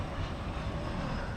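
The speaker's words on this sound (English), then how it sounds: "Well, here comes a plane." A plane approaches a runway at night at DFW airport, a broad, steady engine roar filling the whole stretch without a break.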